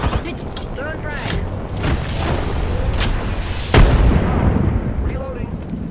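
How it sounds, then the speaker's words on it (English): Frag grenade blast in a battle royale shooter, a sharp loud explosion partway through amid ongoing gunfire and battle noise, with a voice talking over the combat. "Throwing frag."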